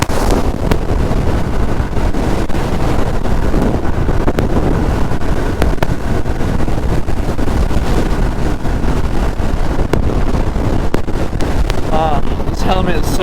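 Steady roaring wind buffeting a rider's helmet on a 1978 Honda Goldwing at road speed, loud and continuous throughout with a low rumble underneath.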